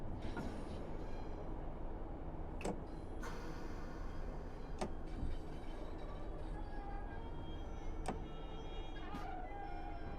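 Train running in the simulator game Train Sim World 6, a continuous rumbling rail drone with occasional sharp clicks and ticks over the wheels, steady and moderately near with no talking.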